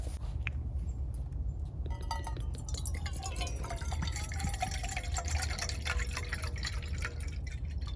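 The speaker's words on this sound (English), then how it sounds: "Let me get some water in my mug." Water poured into a mug beside a Coghlan's emergency camping stove, a steady close liquid trickle with dripping and a faint clink, running continuously with no talk.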